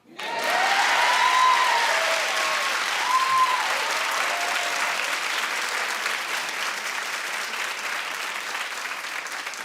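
A studio audience on a talk show claps in a sustained, loud wave of applause that rises quickly and holds for nearly ten seconds, with faint whoops and a few voices mixed in.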